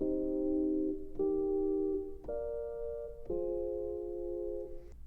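Four sustained synth chords played on a Push 2 move through a I, flat III, flat VII, IV progression, each held about a second with a crisp attack, loud and clear with no voices.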